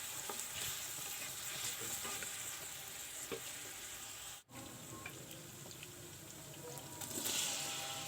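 Onion and garlic with a little salt frying in oil in a pan for a chicken kabsa, giving a steady close sizzle with occasional stirring scrapes and no voices.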